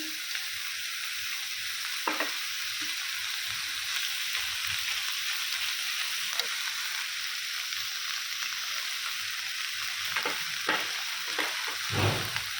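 Paneer fries in a hot pan with a steady close sizzle, joined by stirring scrapes and a few sharper knocks toward the end; nobody speaks.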